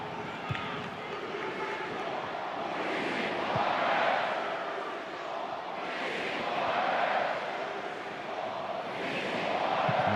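A football stadium crowd at an A-League match between WS Wanderers and Brisbane Roar: a steady roar of chanting fans that swells in waves, loud and continuous, rising toward the end.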